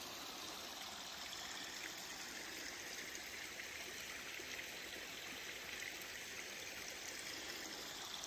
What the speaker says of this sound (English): with the creek flowing.